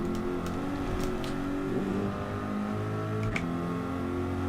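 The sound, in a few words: Corvette engine whine after gear change, Gran Turismo 7 video game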